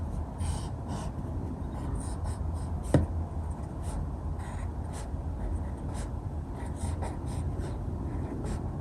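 Pencil or pen drawing on paper, a steady close scratching and rubbing with strokes continuing throughout, alone with no talk.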